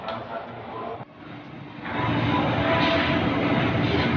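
A commuter train heard from inside a carriage heading toward Depok Baru station, with a steady low rumble and rolling wheel noise that briefly dips, then swells louder and continues unbroken.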